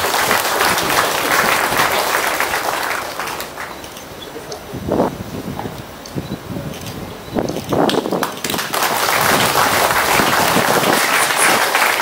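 Loud crowd applause at a police district director turnover ceremony dips into a quieter stretch with scattered claps and murmurs, then swells again into full, sustained clapping.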